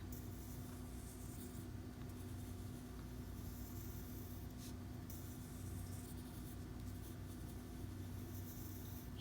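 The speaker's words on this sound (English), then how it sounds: "Now I'm drawing it bigger than life size." Pencil drawing and shading on paper gives a faint, steady scratchy rasp of graphite strokes that continues without pause, with no talking.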